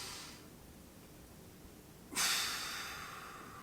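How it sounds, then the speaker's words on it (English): A single sharp, breathy inhale or snort rises suddenly out of near silence during a body mobility exercise, then fades gradually over the next second and a half. "One more deep breath here."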